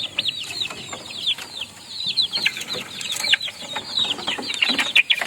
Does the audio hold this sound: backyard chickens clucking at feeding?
yes